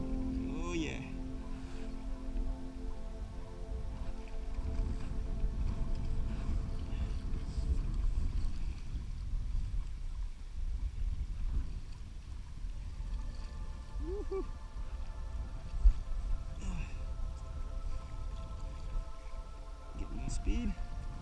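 A Decathlon Itiwit inflatable kayak sailing on open water in gusty wind: low rumbling wind buffeting and water wash throughout, with faint voices now and then.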